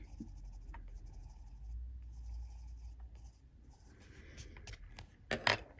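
A scarlet red coloured pencil moves across a page of a printed colouring book, making soft, close scratchy strokes that are faint and steady at first, then quicken into a few brisker scribbles near the end, with no talking.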